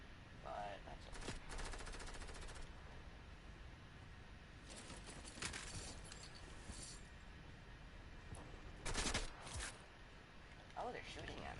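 Bursts of video-game gunfire aimed at the player ring out in a busy, noisy mix, with sharp volleys clustered around the middle and near the end under ongoing talk.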